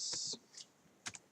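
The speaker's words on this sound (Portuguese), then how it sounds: "Eu estou aqui digitando livro" Keys tapped on a computer keyboard, a handful of quiet, close clicks in a short irregular burst with small pauses between them.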